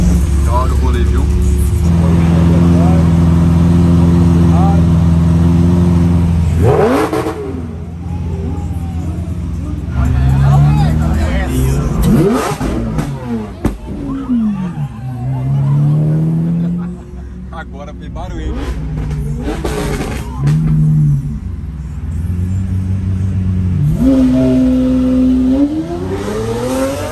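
Supercars rev and accelerate hard on the city streets of Balneário Camboriú, loud, close engine roars rising and falling through repeated bursts, with people talking throughout.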